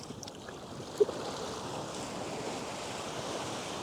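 Ocean surf washing steadily onto a beach during surf fishing, a continuous broad roar of breaking waves with wind noise, no voices.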